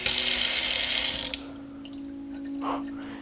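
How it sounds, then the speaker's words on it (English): Broadband rushing of a running tap in an abandoned mansion kitchen for about a second and a half, then it shuts off, leaving a faint steady hum and a soft brief splash. "I can't believe that the water still works."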